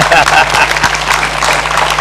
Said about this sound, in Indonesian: Binaan Ibu Lis, kita beri tepuk tangan.